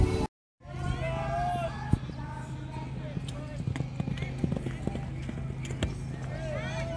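Horses ridden by young riders at a riding festival give off scattered clip-clop hoof strikes amid crowd murmur and a voice talking nearby. A brief dropout interrupts the sound near the start.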